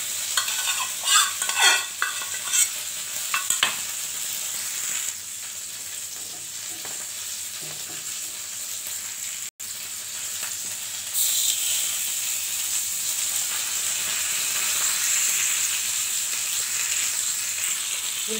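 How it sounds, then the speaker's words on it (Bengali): Bhetki fish frying in oil in a pan, a steady close sizzle with some stirring and scraping clatter early on, hissing rising again later and continuing alone without talk. "তেল মেখে নিচ্ছি, আবার মাছটা সব দিয়ে দিচ্ছি।"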